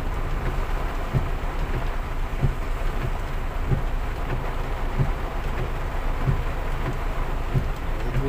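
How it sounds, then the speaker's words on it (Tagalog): Steady, dense typhoon rain from Typhoon Enteng hisses without a break, with a faint low rhythmic thumping running underneath throughout. "Isang linggo na tong ulan."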